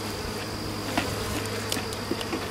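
Honey bees hum steadily during the installation of a nucleus colony into a hive box, a close and constant drone with a few faint knocks over it.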